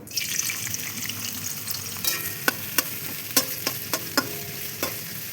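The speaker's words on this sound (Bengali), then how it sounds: "তেলটা দিয়ে দেবো রেস্তাটা ভেজে নেব" Onions fry in hot oil for birista, giving a steady moderate sizzle close by, punctuated by a series of sharp clicks and scrapes as they are stirred in the pan; no one speaks.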